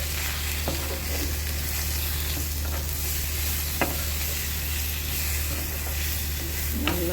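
Onions sizzle steadily in a pan with turmeric and kuzhambu powder for a mocha kotta kuzhambu, with a few sharp scrapes and taps of a spoon stirring against the pan over the constant frying hiss.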